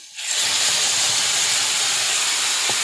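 Mani-muni greens with potatoes frying in a pan, giving a loud, steady, sizzling hiss that holds throughout after a sudden start, with a faint thump near the end.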